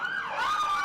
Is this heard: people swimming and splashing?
no